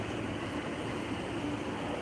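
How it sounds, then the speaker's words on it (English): Train passing by in Shinbashi, Tokyo, a steady low rumble with faint squealing tones, continuous and moderately distant. "The train going by."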